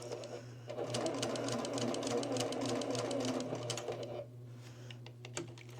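A sewing machine stitches fabric in a circle with a rapid, even mechanical chatter that runs for several seconds, then stops, followed by a few faint clicks.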